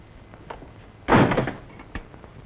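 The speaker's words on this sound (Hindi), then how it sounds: "अच्छा कम से कम ये दरवाजा ही बंद कर लो।" A door is pushed shut with one solid thud and rattle, close and fairly loud, followed by a faint secondary knock; quiet room tone around it, no talking.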